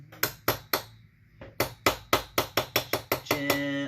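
Repeated metallic hammer taps work a part out of a McCulloch 790 chainsaw, about a dozen sharp, ringing strikes at a brisk irregular pace, close and loud, ending in a sustained metallic ring.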